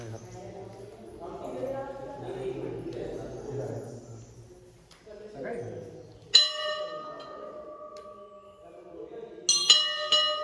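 People talk and move about, then temple bells ring out clearly with sustained metallic tones, struck again near the end.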